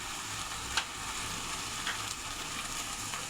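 Nigella seeds sizzle in hot oil for tempering, a soft, steady hiss with a few faint crackles and pops, heard alone without voices.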